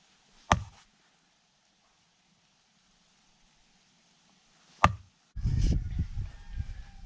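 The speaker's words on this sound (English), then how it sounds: "I heard this knocking sound." Two sharp, isolated knocks in quiet woods near the Bearhead Mountain trail, spaced about four seconds apart and fairly loud, followed by a burst of rustling and thumping.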